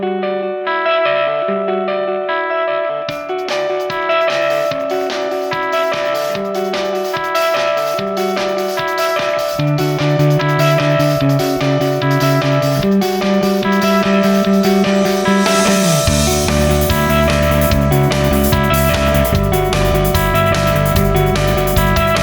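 Electric guitar playing a riff, tuned down a semitone and heavy with delay and chorus effects, a fast, continuous picked pattern ringing loud and alone for over twenty seconds.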